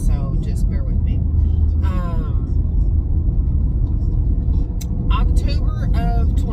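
Car interior while driving, a steady low road rumble and engine drone under a person talking throughout.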